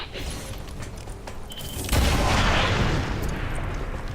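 A sidearm shot in the XCOM video game: a single loud, booming report close by, followed by a rumbling, noisy tail that slowly fades.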